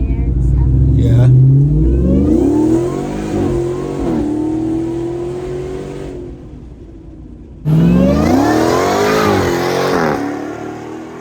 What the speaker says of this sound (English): That felt like a Demon 170 launch.